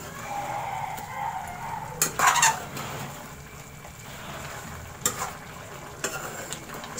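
Chicken, about one and a half kilos, roasting in a pan with black pepper for a dhaba-style masala, giving a steady low sizzle with a few sharp stirring scrapes and clatters, no talking.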